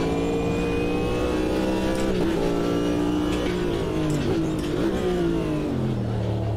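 Chevrolet Corvette GTP race car engine in the Automobilista 2 racing game, a steady loud roar with falling pitch sweeps as it downshifts, revs dropping and blipping through gear changes over about six seconds.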